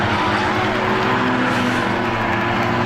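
Race cars in a six-cylinder feature event roar around a short track in a continuous, dense engine drone, several cars running close together with no break and no one talking.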